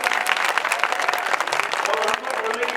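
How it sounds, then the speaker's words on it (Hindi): Loud crowd applause at a political rally, a thick roar of clapping from a large gathering with a murmur of voices mixed in, close and sustained before easing slightly near the end. "एक बार जोरदार तालियां हो जाए"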